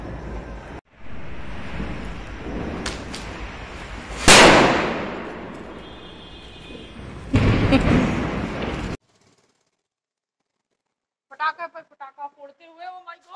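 Joined strings of firecrackers set off at a crowded temple celebration, a dense crackling barrage with sharp louder bursts that suddenly stops, followed by silence and then some voices.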